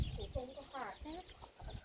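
Chickens cluck in a string of short, close calls with one louder rising squawk in the middle, and some human voice mixed in.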